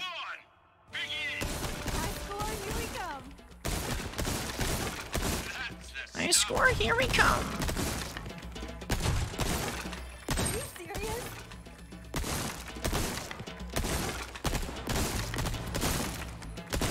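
Gunshots in Resident Evil 4 Remake ring out as a run of sharp reports spread through the clip, mixed with crashing and breaking impacts, mostly under a steady game soundscape with no talk.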